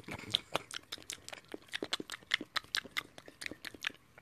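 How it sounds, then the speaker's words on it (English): A rabbit chewing lettuce, close up: rapid, crisp crunching bites come in a steady irregular stream with no talking. "If you give me more lettuce, I'll keep on chewing."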